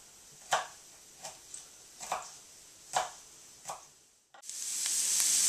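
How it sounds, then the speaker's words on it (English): Onions and peppers cook in a pan for stuffed bell peppers, with sharp ticks and pops spaced about a second apart, then a sudden steady bright sizzle that swells and holds to the end. "My onions and peppers are cooking away"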